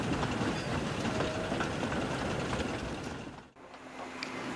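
A train pulls a string of fuel tanker wagons away, giving a continuous rumbling, rattling roll with faint clatter. The rolling sound dips briefly and then carries on steadily.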